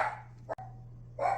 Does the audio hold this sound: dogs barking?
yes